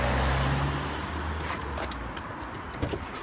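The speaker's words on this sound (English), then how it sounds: "Oh, there's a car." A car drives past outdoors on a road in Ashford, Kent, with a broad rumbling whoosh that is loudest at first and slowly fades, followed by a few faint knocks.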